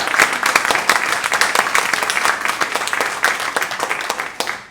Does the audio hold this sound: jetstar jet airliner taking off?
no